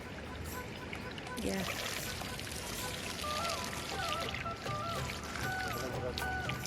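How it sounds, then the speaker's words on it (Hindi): A thick stream of water pours from a pipe into a bucket, making a steady, soft splashing rush that continues throughout, with someone speaking over it. "कितना मोटा पानी आ रहा है इसमें, देखो।"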